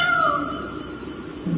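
A human voice imitates a cat, giving a single drawn-out, wavering meow up close.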